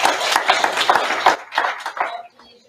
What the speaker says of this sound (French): Puis on devrait l'applaudir, vraiment.